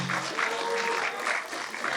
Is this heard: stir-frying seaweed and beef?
no